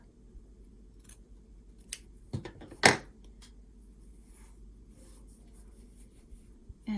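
Scissors snip once, closely, through fabric being trimmed for a micro mini quilt, a single sharp cut standing alone against a quiet room with a few faint rustles around it.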